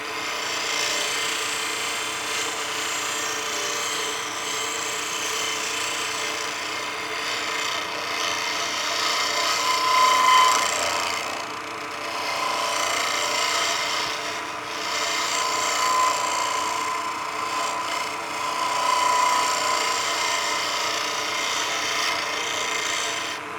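A pizza cutter handle spinning on a wood lathe while a negative rake scraper works it, giving a continuous close rasping hum with slow rises and falls in intensity and no talk.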